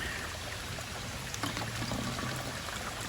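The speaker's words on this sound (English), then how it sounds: "You always want to pour that into your dirty bottle" Contaminated, unfiltered water pours from a container into a dirty bottle on the Appalachian Trail, a steady close trickle and gurgle running the whole time with no talk.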